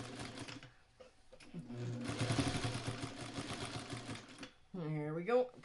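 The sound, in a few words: sewing machine stitching quilt carrier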